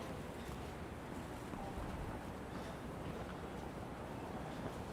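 Cold winter wind gusting along a Manhattan street at night, a steady loud broadband rush with buffeting on the microphone, no voices.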